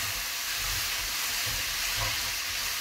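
Onions and spices frying in a pan, a steady close sizzling hiss with a faint low rumble underneath, and no talk.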